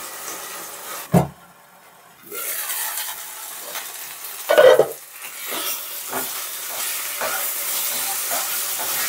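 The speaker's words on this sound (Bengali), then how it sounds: "দেখো শাকটা ভাজা ভাজা হয়ে গেছে" Jute leaves fry in a pan with a soft, continuous sizzle and hiss, broken by a few sharp clanks and scraping stirs of a utensil, close by, with no talking.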